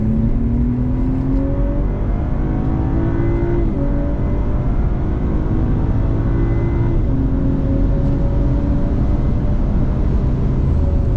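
A BMW M240 on the Spa racing circuit pulls hard under sustained acceleration, its engine note climbing through the gears in a loud, continuous drone heard from close range.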